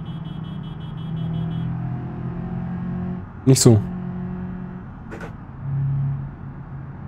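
Car engine in the BeamNG driving game hums steadily while driving, with a brief loud burst partway through and a later rise in engine tone, partly under someone speaking German.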